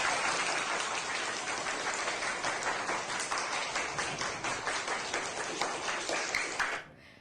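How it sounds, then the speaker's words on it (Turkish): Audience applause at a Turkish school program following a student's presentation, dense steady clapping from a roomful of people lasting about seven seconds before cutting off abruptly, with no talk. "Alkışlıyoruz seni."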